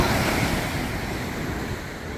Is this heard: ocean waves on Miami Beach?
yes